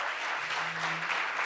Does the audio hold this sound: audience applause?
yes